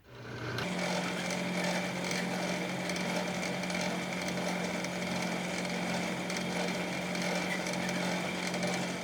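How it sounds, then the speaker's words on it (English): A small drill runs steadily and loudly from start to finish, boring a hole in a little part for a custom RC truck shock; no voices are heard over the constant whine. "I need to drill a hole in there."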